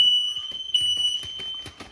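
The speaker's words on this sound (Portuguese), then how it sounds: "tocou o alarme aqui de casa" A house smoke alarm, set off by cooking, sounds a continuous high-pitched tone, loud and nearby, while faint tapping and rustling noises occur underneath.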